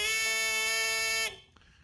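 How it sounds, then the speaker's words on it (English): A small electric buzzer in a battery-and-switch circuit for a classroom energy experiment gives a steady, shrill, harmonic-rich tone lasting just over a second, then stops abruptly when the switch is released. "you can hear the buzzer going"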